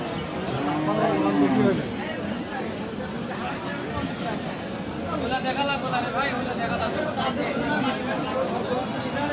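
Cows at a busy cattle market, one loud moo near the start rising over steady crowd chatter and livestock noise, with people talking throughout.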